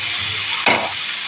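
Stingray pieces dropped into hot spiced masala with salt and turmeric set off a sudden loud sizzle burst over an ongoing steady frying hiss, then settle back to a continuous crackle.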